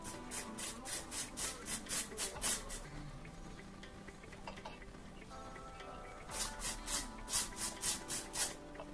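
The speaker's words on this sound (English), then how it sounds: "I'm just going to start spraying" A spray bottle is spritzed over and over into the inside of an inside-out HD transparent lace wig, in close, rhythmic bursts. One quick run of sprays comes first, then a pause with soft rubbing, then a second run. No one speaks.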